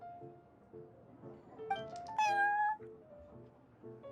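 Prince the cat meows in the video game Genius Invokation TCG, two clear rising meows over a soft, plinking music loop, fairly close and alone.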